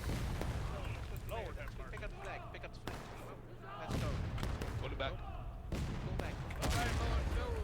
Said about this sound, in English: Union Artillery shredding that